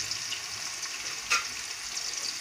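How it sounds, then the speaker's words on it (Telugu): Chopped onions fry in a pan for chicken curry, a steady close sizzling hiss with one brief louder crackle partway through, and no speech. "ఉల్లిపాయలు వేగాలి ఇప్పుడు."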